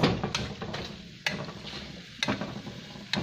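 Pork with cauliflower, broccoli and mushrooms stirred in a frying pan, a steady sizzle broken by a few sharp scrapes of the utensil against the pan, close and fairly loud.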